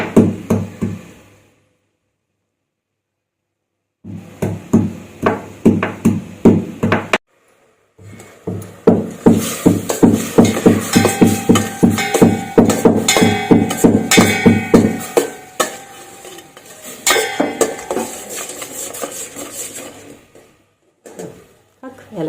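Ingredients being pounded into powder for a raw mango gulamba and pickle, a steady run of sharp rhythmic knocking strokes in bursts separated by short silences, close and loud.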